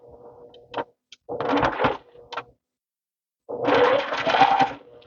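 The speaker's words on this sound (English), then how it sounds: "I sewed over a pin." A sewing machine stitches a baby quilt and runs over a pin, giving short clattering bursts of stitching with brief clicks and silent gaps between them, close up.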